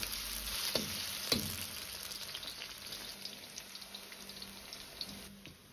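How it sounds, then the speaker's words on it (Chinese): Onion, scallion and ginger frying in vegetable oil in a wok over medium-low heat, giving a steady close sizzle and crackle throughout, with a couple of sharp clinks of a utensil against the pan early on. "下入切好的洋葱、小葱和生姜，炸出香味"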